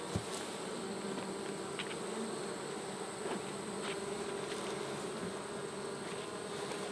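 Honey bees swarm in a clustered ball at the back of a hive, giving a dense continuous buzzing hum close by, with a few individual bees zipping past near the listener and no talking.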